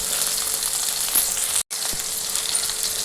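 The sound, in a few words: sautéing shallots and garlic in oil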